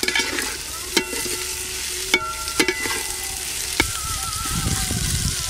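Chopped onion and carrot sizzle and hiss in hot oil, broken by occasional sharp clinks of a spoon stirring against the pan.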